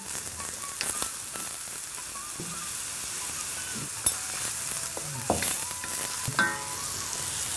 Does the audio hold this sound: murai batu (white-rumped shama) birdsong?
no